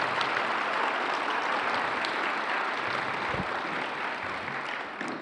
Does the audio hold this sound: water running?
no